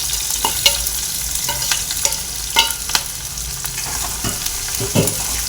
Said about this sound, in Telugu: ఇలా ఆనియన్స్ని ఇలా ఒక 2 నిమిషాలు వేయించుకోవాలి.